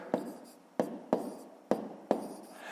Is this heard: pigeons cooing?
no